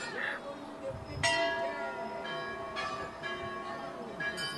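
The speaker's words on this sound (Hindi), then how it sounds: "और ये हमारे बच्चे भी एक एक घंटी बजाते हुए चल रहे हैं।" Children ringing temple bells one after another at Chitai Golu Devta temple in Almora, Uttarakhand, bright metallic strikes with long ringing tails at irregular intervals, mixed with background chatter.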